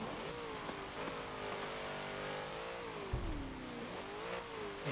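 A twin-turbocharged 1963 Volkswagen Beetle engine revs steadily in Forza Motorsport 7, its rising and falling tone swelling and dipping across the run with a brief low thump partway through, loud and close with no talk.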